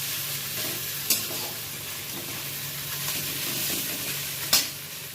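Fish and potato fry in a little oil in a pan, a steady close sizzle and hiss with stirring throughout and two sharp utensil clinks against the pan.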